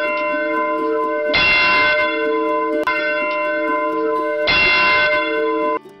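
A large bell rings loudly in two strokes, each a bright clang that hangs on in a long, rich humming decay.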